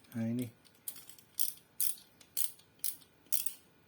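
A CR-V socket wrench ratchet is flipped and turned, giving about six separate bursts of quick metallic clicking, close and crisp, after a brief voice at the start.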